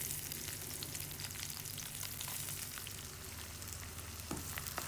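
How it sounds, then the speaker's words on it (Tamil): Whole garam masala spices, including cardamom and bay leaf, fry in hot oil for broccoli rice, giving a continuous close sizzle with light crackles and no voices. "இப்போ இது லைட்டாக ஃப்ரை ஆகி ஸ்மெல் வந்ததும் ஆனியன் சேர்த்துடலாம்"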